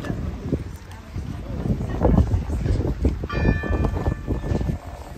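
Church bells ring out from a distance in Trogir, Croatia, their tones ringing through wind noise and footsteps, with a bright chime rising midway and lingering.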